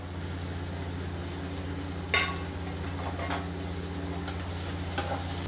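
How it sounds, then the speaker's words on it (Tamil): Onion, tomato, green chili and curry leaves sautéing in a pan, a soft continuous sizzle under a low steady hum, broken by a few brief scraping stirs of the spoon. "இதோட இந்த பச்சை மிளகாய், கருவேப்பிலை இதையும் சேர்த்து வதக்கிடலாம்."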